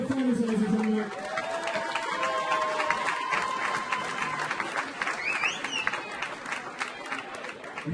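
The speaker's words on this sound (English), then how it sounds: "Applause for the fighters." Loud, sustained applause and clapping from a crowd for the boxers after a heavyweight bout at Golden Gloves boxing finals, with scattered voices and cheers mixed through the steady roar.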